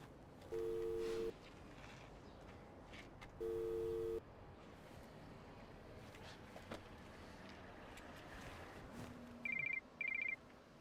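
Telephone ringback tone for an outgoing call, two long steady electronic tones about three seconds apart, faint against a quiet background, followed by a pair of short higher beeps near the end.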